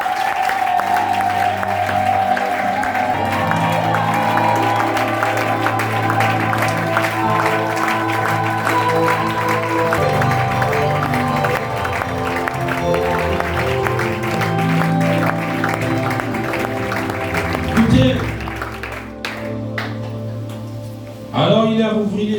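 A church congregation at a Sunday service applauds continuously for about twenty seconds in a reverberant hall, over a sustained musical background, with a voice heard over the clapping.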